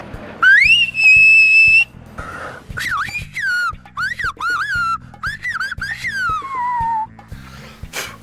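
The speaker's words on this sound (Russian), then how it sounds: "Следующий способ передачи информации называется кемерический свист." Loud, shrill Tyrolean mountain whistling in a sequence of sliding, swooping phrases, some held long, with brief pauses between them and a low hum underneath.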